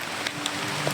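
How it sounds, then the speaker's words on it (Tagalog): Rain falls steadily outdoors under darkening stormy skies, a dense, even hiss with faint scattered drop ticks, no voices. "Ulan guys."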